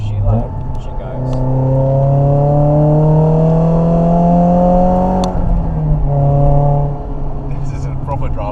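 A Nissan S15 Silvia engine drops a gear and climbs in pitch as it accelerates hard, a loud, close, rising drone that eases off briefly before pulling again.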